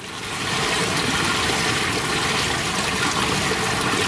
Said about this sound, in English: that the water is flowing